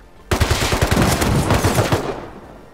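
Thompson submachine gun in the Rust video game, firing one loud, rapid burst of about a second and a half, with no talk over it.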